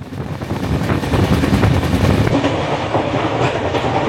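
The 22317 Humsafar Express rolls along loudly on the way from Sealdah to Jammu Tawi, with a continuous rumble and rapid clickety-clack of wheels over rail joints.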